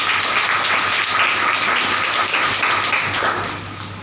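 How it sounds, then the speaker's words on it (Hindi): Steady, loud applause from a crowd at a motivational training seminar continues throughout, dense clapping that tapers slightly at the end. "एक बार जोरदार ताली हो जाए"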